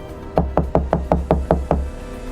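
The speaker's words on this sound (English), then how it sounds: "A slow, hollow sound on the heavy teak door." Eight evenly spaced hollow knocks on a heavy teak door, slow and deliberate, close and fairly loud with a low, resonant thump behind each strike and no voices.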